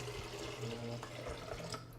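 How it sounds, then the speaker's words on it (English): Three cups of water pour over nuts for vegan nut milk, a brief, soft, steady splashing trickle close by, fading out at the end. "you want to add the 3 cups of water"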